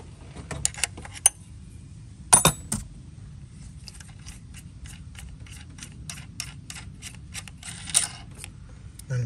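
A wrench breaks loose a 17mm fitting on a Chevy Cruze engine, giving sharp metallic clicks and clanks in scattered bursts close by, with light ticking between them.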